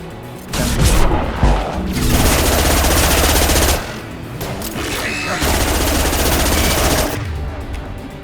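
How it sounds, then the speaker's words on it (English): Rapid, loud impact-shot gunfire in the game Mass Effect 2 Legendary Edition comes in dense sustained bursts, with a short pause between volleys. "Firing an impact shot!"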